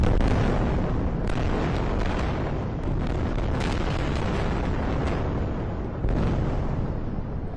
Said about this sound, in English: As the sun sets, explosions lighting up the night sky.